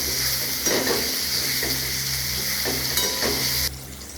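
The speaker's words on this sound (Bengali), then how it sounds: "এবার এইগুলোকে ভেজে নেব, ভেজে রেখে দেব" Pieces of ash gourd frying in a pan, a loud continuous sizzle with periodic stirring scrapes, the sizzle dropping away sharply near the end.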